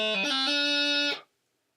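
A bagpipe chanter sounds a light throw on D played fast: a quick burst of grace-note steps sliding up into a sustained, bright, reedy note that holds loud and close for about a second before cutting off into silence.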